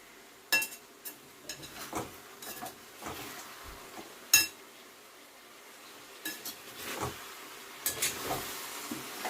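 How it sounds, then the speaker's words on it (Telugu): Raw banana pieces fry in oil for a curry, with a quiet background sizzle and irregular clinks and scrapes from a utensil stirring the pan, and no talk. "ముక్కలు వేసిన తర్వాత నూనెలో ఒకసారి కల పెట్టుకున్నాం"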